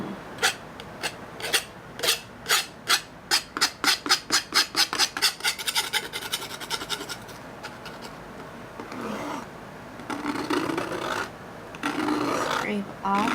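A painting knife scrapes magenta paint off a canvas in a string of close, rasping strokes that quicken into a fast regular rhythm, then give way to longer, smoother scrapes and rubbing with faint voice sounds mixed in.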